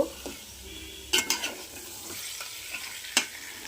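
Country chicken being slowly sautéed in a pan, a low simmering sizzle broken by a few sharp clanks and scrapes of a spoon stirring the meat, fairly quiet and close, without speech.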